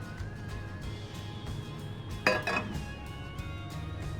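A frying pan heated for a thin omelet, with oil swirled to coat it, gives a couple of brief metallic clinks near the middle over a low steady background hum.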